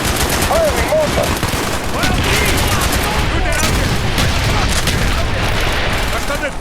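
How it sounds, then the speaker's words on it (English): In the Call of Duty Black Ops shooting mission, dense battlefield fire roars without pause, with rapid gunfire bursts and booming launches blending into a loud, saturated wall of combat noise while voices shout beneath it. "Firing mortar!"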